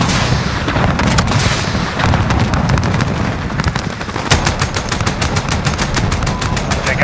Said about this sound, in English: Inbound with 30 mic. Mike, here comes gun run.